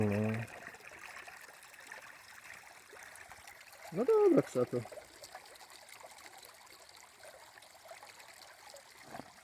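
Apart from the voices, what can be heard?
water swished in a gold pan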